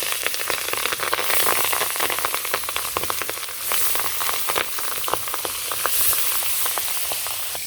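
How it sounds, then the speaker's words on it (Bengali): Fish frying in hot oil with cumin seeds in a Bangladeshi village kitchen, a steady loud crackling sizzle with sharp pops throughout. "তেলটা গরম হয়ে গেছে তেলের মধ্যে জিরা ফোড়ন দিয়ে দিলাম মাছগুলো দিয়ে দিয়ে"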